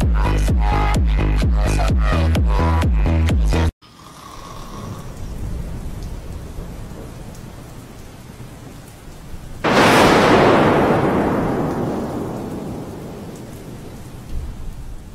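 A thunderstorm with rain in the Roblox video game begins after a short burst of music. Steady rain hisses throughout, and a sudden loud thunder crack rolls into a long fading rumble.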